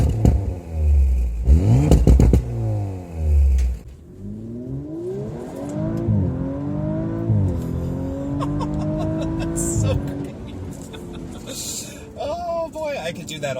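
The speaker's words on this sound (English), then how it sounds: "if there's one thing about this car that is really nice to listen to, is the sound the engine makes" A 2019 Audi RS 5 Sportback engine revs up and down in repeated rising and falling sweeps, loud and close, with a voice speaking briefly at the start.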